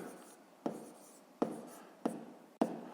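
A pen scratches numbers on paper while solving a fifth-grade math exercise, steady faint scribbling broken by four sharp taps at regular intervals, close and quiet.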